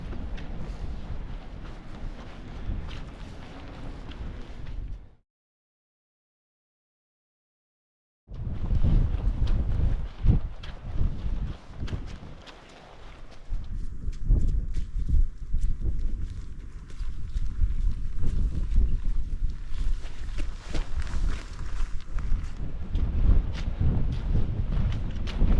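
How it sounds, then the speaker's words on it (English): Strong wind roars and buffets the microphone on a hiking trail in the Scottish Highlands, with loud gusty rumbling throughout. A brief silent gap interrupts it early on. "I haven't spoken to you yet just because it was so windy"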